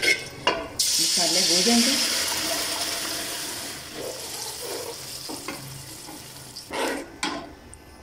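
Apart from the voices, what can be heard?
chicken Afghani karahi gravy frying and stirring in pan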